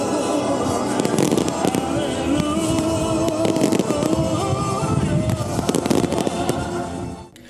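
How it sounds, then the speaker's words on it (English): Fireworks bursting at a celebration with cultural performances held for leaders attending APEC House in Port Moresby, a dense, continuous run of loud crackles and booms that fades out at the very end. "followed by fireworks."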